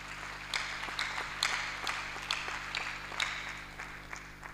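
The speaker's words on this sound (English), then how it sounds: "He deserves a round of applause." A lecture audience applauds after a guest speaker is introduced: steady, moderately distant clapping with scattered sharper claps over a low room hum.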